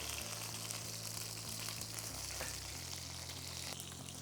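A steak sears in a hot pan while being pressed down with tongs, giving a loud, steady sizzle and crackle throughout, with a low hum beneath and no one speaking.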